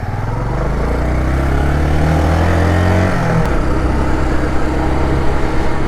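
A 250cc motorcycle engine drones steadily as it climbs a mountain road above Los Angeles, a loud, close, continuous hum with a shift in pitch midway.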